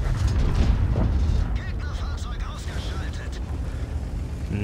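The SU-152 tank's gun fires in the World of Tanks video game. A loud, deep boom opens the clip, then a rumbling decay and mechanical game noise continue under a voice.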